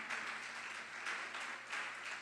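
Congregation applauding during a church sermon, a steady wash of many hands clapping together at a low, distant level, swelling in slight waves without voices.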